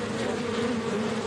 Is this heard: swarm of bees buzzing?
yes